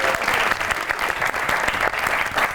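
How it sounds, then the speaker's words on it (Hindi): Steady, dense applause from a studio audience on a Pakistani comedy talk show, continuous and loud throughout with no break or talking. "आपकी बहुत सी तालियों में the one and only Momina Hasan Kibria."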